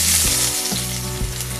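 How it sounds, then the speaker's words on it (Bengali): Dried red chillies and chopped onion frying in hot mustard oil, a loud continuous sizzle close by with a few soft knocks and stirring sounds underneath. "তেলটা গরম হয়ে গেছে, এবার আমি দিয়ে দেব চিড়ে রাখা দুটো শুকনো লঙ্কা, দিয়ে দেব দুটো পেঁয়াজ কুচি।"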